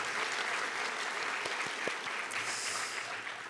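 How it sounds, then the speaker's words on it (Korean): A conference audience applauding steadily after a lecture, a dense wash of clapping that holds for a few seconds and tapers slightly near the end. "여러분 다시 한번 감사의 박수 부탁드리겠습니다."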